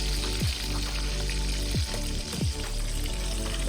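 Quail fry steadily in hot oil outdoors on a farm, a dense, loud, continuous sizzle with a low rumble beneath and a few short swooping tones over it.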